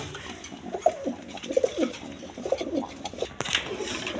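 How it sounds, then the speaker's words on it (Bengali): Lahori pigeons coo in a series of soft, low, separate calls at a pigeon seller's, with a brief sharp sound partway through. "এখানে লাহোরি কবুতর আছে দেখেন"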